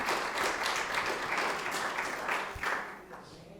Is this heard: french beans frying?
no